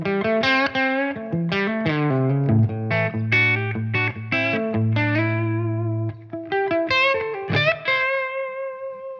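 Electric guitar played through a ToneX tone model with noise gate, compression and reverb, a distorted melodic line of picked notes and sustained tones, close and clean-edged with a short reverb tail, no voices.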